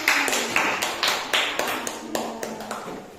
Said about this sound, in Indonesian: Ya, silakan kembali ke tempat duduknya masing-masing. Tepuk tangan.